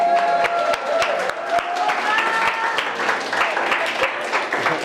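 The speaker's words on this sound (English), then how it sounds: "An applause for them." An audience applauds the participants of a newsroom event, with scattered, uneven clapping and sharp individual claps beneath voices talking throughout.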